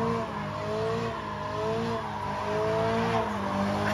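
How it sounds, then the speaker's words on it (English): A front-wheel-drive car doing burnouts at a car meet, tires squealing in a sustained wavering howl over engine noise, close and loud. "front wheel drive burnouts"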